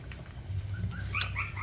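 A mother dog with her puppies gives faint, high whimpering whines, a few soft cries scattered over about a second and a half against a low, steady background hum.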